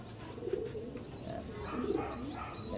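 Pigeons cooing close by in a loft, soft low coos repeating in two bursts over a steady murmur of other birds.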